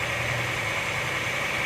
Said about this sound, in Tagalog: ganda talaga ng tunog ng V6 engine